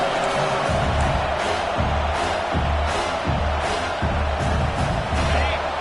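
Stadium crowd in the College Football 26 video game roars in a dense continuous wall of cheering, with a commentator talking over it throughout.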